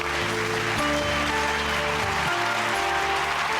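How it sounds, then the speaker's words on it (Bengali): Applause fills the space, a steady clatter of many hands clapping, with music playing underneath throughout. "চাষির দিদিমণির জন্য জোরে হাততালি"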